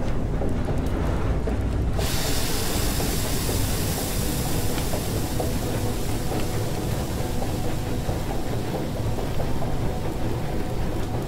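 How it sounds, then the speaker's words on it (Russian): Vehicle engine running in the video game FAR: Changing Tides, a steady, loud, rumbling drone that surges in near the start and holds constant throughout, with a rough, noisy texture and no voices. "Не перегреваем двигатель."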